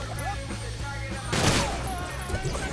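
A rapid burst of gunfire in Sunset Overdrive crackles amid busy game effects, with one louder blast in the middle.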